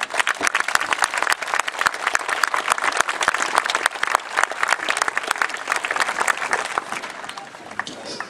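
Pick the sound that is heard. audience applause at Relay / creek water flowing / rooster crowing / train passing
audience applause at Relay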